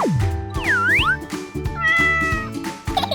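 A hungry kitten meows repeatedly, several close, high, wavering cries in quick succession, with light knocks and a springy twang in between.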